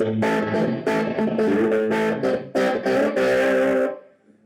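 Lightly driven electric guitar through a Quad Cortex capture of a Matchless SC30 amp plays a short riff of picked notes and chords, then fades out with a ringing tail.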